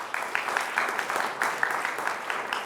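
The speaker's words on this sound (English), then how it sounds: "Can we have a round of applause for both teams?" Audience applause for both teams after a high school varsity quiz match, a moderate crowd clapping with distinct individual claps popping out of the texture, fairly close and steady over the short span.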